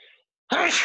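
A single loud, abrupt sneeze bursts out at close range after a brief quiet pause, following a faint breathy sound.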